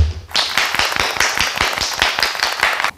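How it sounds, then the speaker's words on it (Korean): Roughly a dozen distinct, evenly spaced hand claps, close and sharp, that start abruptly and stop short after under three seconds. "박수."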